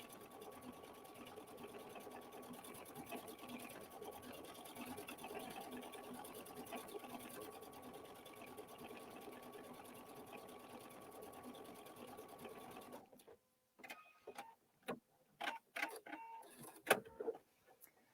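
Sewing machine stitching a decorative flower stitch along a seam line on a scrappy quilted table runner, a steady close mechanical hum and patter for most of the clip before stopping, then a few scattered clicks and handling noises.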